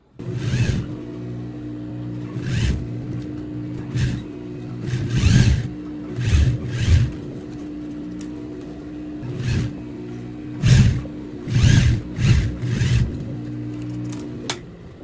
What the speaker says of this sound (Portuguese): E passa uma costurinha aqui na parte do zíper.